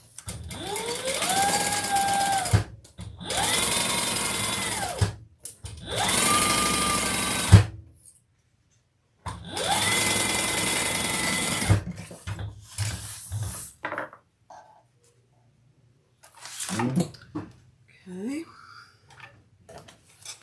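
A sewing machine stitches fabric lining in several bursts of a few seconds each, a close steady whirring hum between pauses, followed by quiet handling clatter and brief talking.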